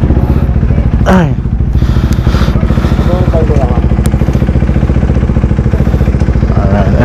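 Honda ADV 160 motorcycle engine idling nearby with a steady, rapid pulsing throb, while people talk over it.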